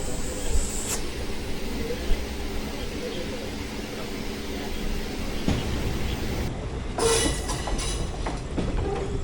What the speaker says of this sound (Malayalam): മുളങ്കുന്നത്ത് സ്റ്റേഷനിലാണ് നമ്മൾ ഓൾറെഡി സിഗ്നലൊക്കെ പച്ചയാണ് വണ്ടി വന്ന് നിന്നപ്പോൾ തന്നെ